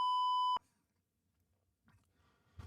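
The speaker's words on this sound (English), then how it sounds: "Like if you heard the beep." A single steady censor bleep rings out for about half a second, then cuts off, leaving near silence with faint rustling.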